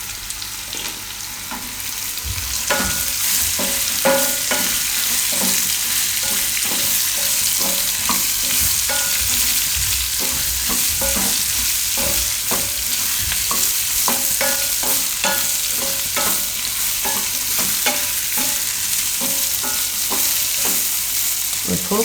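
Chopped parval (pointed gourd) frying in a little oil for a Gujarati sambharo, a loud continuous sizzle with repeated spatula scrapes and stirring knocks, louder after the first couple of seconds, no voices.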